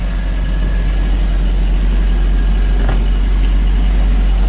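A 1984-89 Toyota Van Wagon engine runs at a steady idle right after its fuel pump was replaced, a close, continuous low hum and rumble with no change in pitch and no talking.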